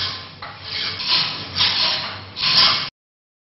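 Sheet metal is cut and worked by hand in a metalworking training class, heard as several rasping, scraping strokes in a row, fairly loud and close, with no voices.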